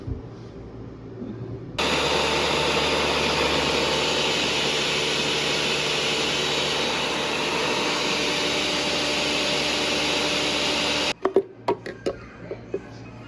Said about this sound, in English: So I just let it blend on high, medium high.